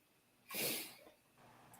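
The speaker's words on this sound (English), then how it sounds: "Oh, hello, somebody's coughing." A single short, breathy cough bursts out once, fairly close, against a quiet background.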